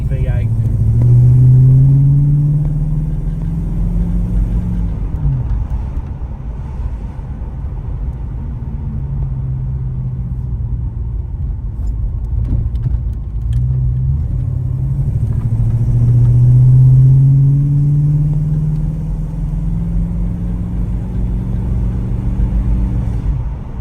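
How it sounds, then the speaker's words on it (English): Throaty V8 engine of a VK Commodore Brock tribute car, a steady close rumble that swells twice as the car accelerates and revs, under talk. "We'll just enjoy the lovely sound of that throaty V8."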